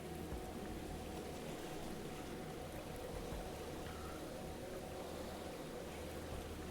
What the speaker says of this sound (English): This is where it rains.